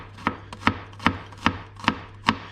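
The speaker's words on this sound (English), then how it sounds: "I'm going to start chopping the garlic." A knife chops garlic cloves on a cutting board for a Caesar salad: six crisp, evenly spaced thunks, close and clear, with no talking.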